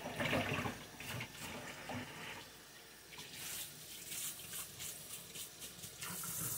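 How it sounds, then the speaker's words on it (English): Water runs and gurgles out of a sink drain after a tie-dye shirt is rinsed, a steady close splashing flow with a few brief knocks, no speech. "I'm just rinsing it as this water goes out of the sink"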